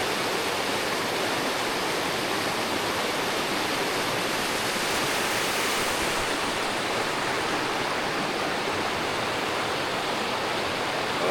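The large Lamdwali Bhurdi Khola river rushes in a continuous, even broadband roar, steady and unbroken throughout, with no voices.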